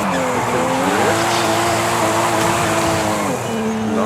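A Toyota Supra drifts in Forza Horizon, its tires squealing in a steady, wavering screech over the close, droning engine note, with the pitch sliding as the slide is held.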